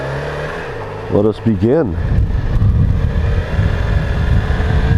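A 2016 Yamaha R6 sport bike warms up: a steady close idle rumble, then a few quick blips that rise and fall in pitch, settling into a dense, slightly windy engine drone with a brief spoken phrase early on.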